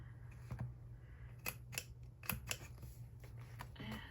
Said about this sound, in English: I'm just gonna use my little corner rounder to try to get that cut